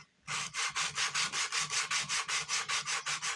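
Wood is hand-sanded with coarse 60 grit sandpaper in quick, even back-and-forth strokes, each pass a close, raspy scratch in a steady rhythm.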